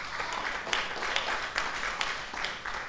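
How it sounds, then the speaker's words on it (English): A church congregation claps together during a Sunday sermon, a steady dense patter of many hands with small swells, moderately loud and without talk. "that was worth a clap"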